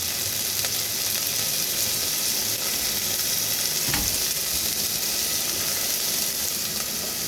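Ginger and tomato sautéing in a pan, a steady close sizzle and fry that holds throughout with a brief stir or clatter partway in.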